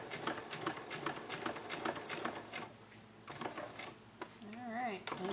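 A sewing machine stitches the side of a homemade protective mask in quick bursts of rapid mechanical chatter, pausing briefly in the middle before starting again, with a faint voice near the end.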